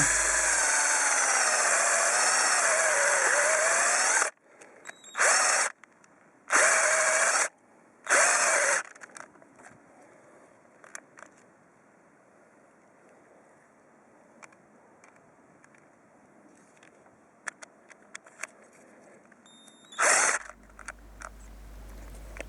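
A Dedra 18V Li-Ion cordless drill whines at high speed in its fast gear drilling wood, then stops; several short bursts of drilling follow, with quieter handling noises and a final brief burst.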